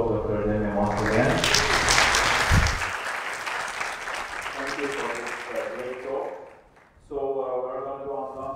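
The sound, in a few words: audience applause after a lecture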